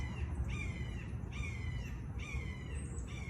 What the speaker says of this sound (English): Same with birdsong that you're hearing.